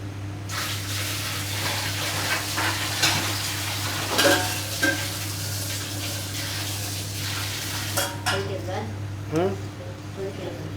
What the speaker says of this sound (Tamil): நல்லா கிடுகிடுன்னு வருது. நல்லா கொதிக்குது.